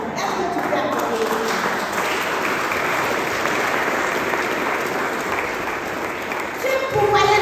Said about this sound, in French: Est-ce que tu peux applaudir?